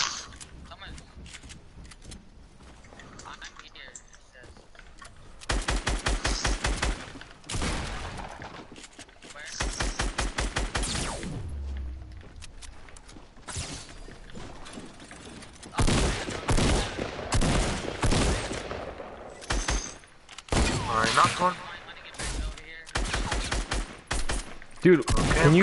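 Gunfire in a multiplayer shooter match, with bursts of shots coming in clusters and scattered single shots, mixed with game sounds while players talk over it.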